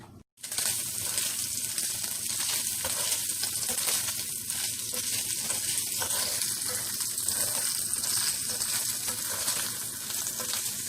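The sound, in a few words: bacon frying in a pan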